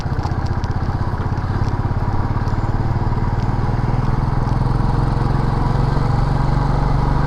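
Motorcycle engine labouring in first gear up a steep mountain road, loud and close with a steady throbbing rumble throughout, no talking.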